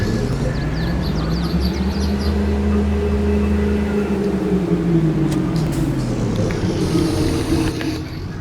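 A vehicle with a big trailer backs up, its engine droning steadily at close range with a slow rise and fall in pitch, and faint birds in the background.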